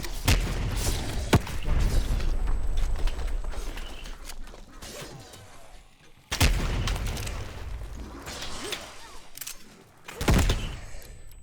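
A grenade launcher fires in Black Ops Cold War, heavy booming blasts heard as several sharp hits, two of them strongest, over dense game noise and explosions.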